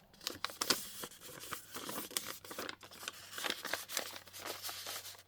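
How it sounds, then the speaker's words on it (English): Paper letter being folded and creased by hand, giving repeated crisp crinkling and tearing-like rustles at close range, scattered in short bursts throughout with no talk. "What we'll do is we'll fold it this way."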